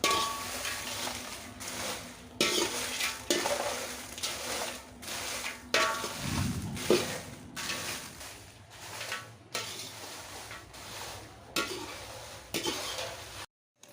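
Dried mixed chilies frying in hot oil in a pan while being stirred, with repeated clanks and scrapes of a utensil against the pot over a steady sizzle, close and continuous with no talk.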